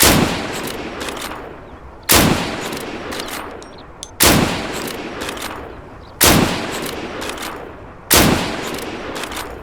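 Five loud, sharp Mosin rifle shots in the video game Deadside, fired at an even pace about two seconds apart, each crack trailing off into a decaying echo.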